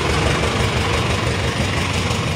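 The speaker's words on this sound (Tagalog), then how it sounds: "ang problema naman ito ay maingay din yung makina" Noisy Isuzu 4HL1 truck diesel engine running steadily at idle, a continuous loud low rumble with broadband mechanical noise, close by and alone without talk.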